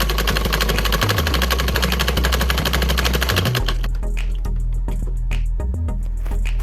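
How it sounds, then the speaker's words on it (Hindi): A sewing machine stitches salwar suit fabric along the facing edge in a steady fast rattle, loud and close, with a deeper motor hum; a short pause near the midpoint breaks the run before stitching resumes at a slightly changed pace. "तो इसके ऊपर सिलाई लगा देंगे हम टिकन के बिल्कुल साथ में कपड़े के साथ"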